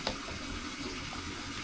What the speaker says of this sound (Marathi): पाणी एकदम हलका टाकायचा, एकदम पातळ पण नाही करायचा